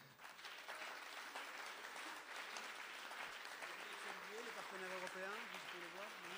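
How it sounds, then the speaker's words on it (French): Sustained audience applause fills a cooperative general assembly hall, dense and steady throughout, with a voice beginning to speak over the clapping near the end. "je voudrais aussi qu'on les applaudisse et qu'on les remercie"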